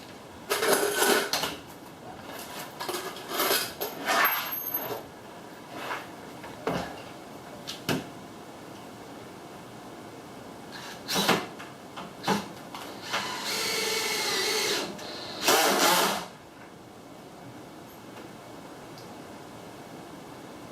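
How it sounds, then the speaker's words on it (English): A power driver sets screws into a camper wall in a series of short whirring bursts with pauses between, close and fairly loud, plus a few clanks and handling noises. "so now you just begin putting screws in it"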